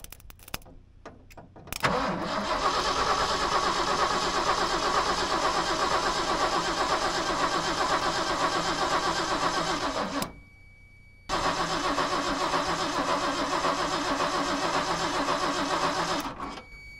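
A dump truck engine cranks over and over on the starter, a long steady grinding churn that stops for a moment and then resumes, close and fairly loud without the engine catching.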